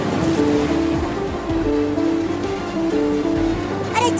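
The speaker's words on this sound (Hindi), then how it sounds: "लगता है टंकी फट गया और टंकी का सारा पानी घर में आ गया है।" Water gushing and flooding into a house after a burst water tank, a comedy sketch effect: a loud, steady rush and surge of water fills the whole stretch without a pause.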